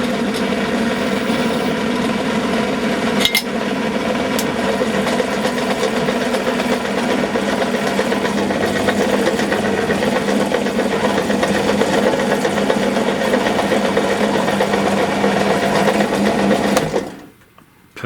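A Lidl five-speed belt-driven bench top pillar drill runs steadily for most of the stretch with a loud, close, even motor whine and mechanical hum and a couple of brief clicks, then winds down and stops.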